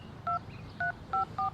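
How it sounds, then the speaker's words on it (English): Four telephone keypad tones beep one after another at an uneven pace, each a short clean dual-tone pulse, loud and close over a low background hum. "I'm just going to get on the phone here."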